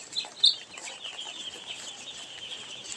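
Chickens cluck and chirp inside a poultry shed, a busy mix of soft clucks with a couple of sharper calls near the start, moderately close, with no talk.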